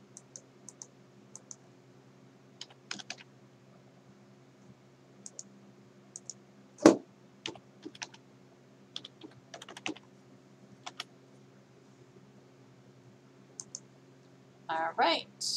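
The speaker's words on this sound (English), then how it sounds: "typing" Scattered keystrokes on a computer keyboard, with sparse clicks in short irregular bursts close by over a quiet hum, and a few words of speech near the end.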